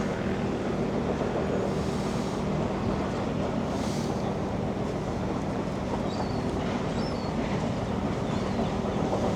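Continuous rumble of a train running on rails near Dartmouth in Devon, fairly close and steady throughout, mixed with broadband wind noise on the microphone.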